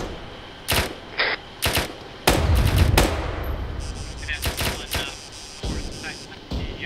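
During a military field training exercise with an infantry platoon, sharp gunshots and bursts of rifle and machine-gun fire crack out in uneven clusters, some loud and near. Soldiers talk between shots.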